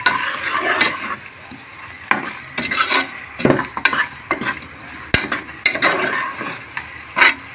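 Mutton biryani base in a pressure cooker being stirred with a spoon after coriander and masala powder go in, giving repeated scraping and clinking strokes over a steady sizzle, close and fairly loud, with no talking.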